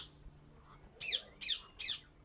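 Several birds of different species call and squawk in a bird sanctuary near Table Mountain, South Africa: three loud, close, harsh calls at an even pace over a quiet background hum.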